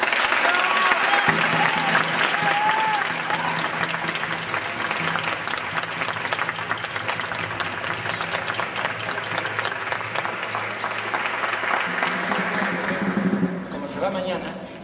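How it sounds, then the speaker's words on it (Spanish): An audience at a ceremony for a dance, bagpipe and drum course claps for a long stretch, a sustained dense applause with faint voices and a few louder cheers mixed in, fading slightly at the end. "Un aplauso."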